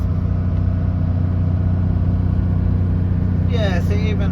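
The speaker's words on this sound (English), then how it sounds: "Give it another rev." A manual car's engine drones steadily and loudly on a drive toward Adelaide, a constant low rumble filling the cabin, with a voice talking near the end.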